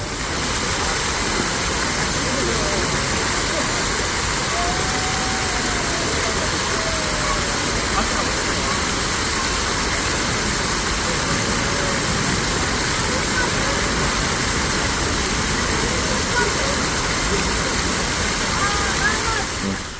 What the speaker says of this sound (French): crois que ça c'était des cascades genre à la sortie de Ueno Park, qui sont vraiment sympas